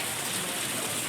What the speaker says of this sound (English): Now we just need the rain to stop.